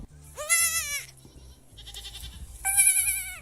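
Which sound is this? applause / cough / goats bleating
goats bleating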